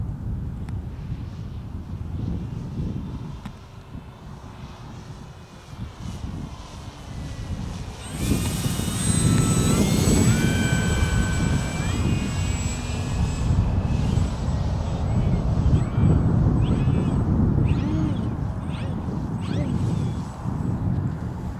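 A petrol-engined model airplane flies overhead at dusk over a model airfield, its engine drone rising and falling as it passes amid steady wind rumble on the microphone, with no talking.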